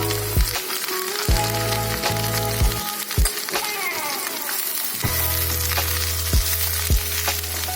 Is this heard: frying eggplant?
yes